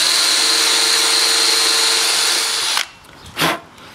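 A power drill fitted with a small cone-shaped bit grinds weld out of the corners of a metal tube, a loud, steady high-pitched whir that cuts off near the end, followed by one short spin-up burst.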